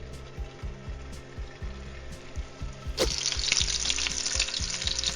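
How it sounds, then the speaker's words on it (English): Meatballs go into a hot pan, rhythmic scraping and tapping as they are placed, then a sudden loud sizzle that continues steadily to the end. "I think our pan's nice and hot. We're going to go ahead and place our meatballs in here"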